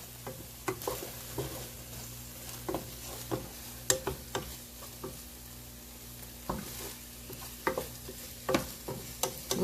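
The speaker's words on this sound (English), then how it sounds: "guess y'all are going to see my food getting cooked" Food cooking in a pan in a home kitchen, with a steady low sizzle under repeated scraping stirs and sharp utensil taps scattered across the clip, moderately quiet and without talk.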